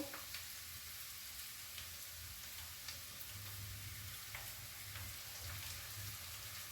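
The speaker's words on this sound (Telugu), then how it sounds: "ఉల్లిపాయలు వేగుతున్నాయి" Onions fry in a pan for a ridge gourd and green chilli curry, a faint, even sizzle crackling steadily and close throughout with no other sounds.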